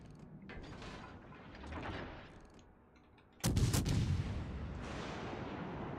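An enemy battleship fires back in a naval game: a sudden loud gun blast cuts in after creaking mechanical sounds, followed by a sustained roar and a second thump.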